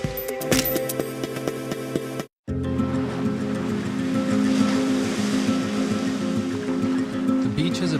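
Waves breaking on a Thai beach, a steady broad wash of surf close by, with a brief cut early on and a possible engine hum mixed underneath.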